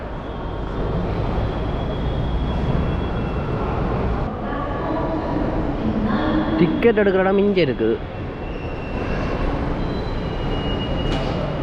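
Inside a Chennai metro station, a steady hum of station ambience with a train rumble swelling in the middle, while someone talks nearby throughout.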